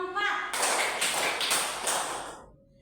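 Students in a class clapping together in a counted clapping game: a short stretch of voices, then four or five loud, fairly evenly spaced group claps in a row before the sound cuts off.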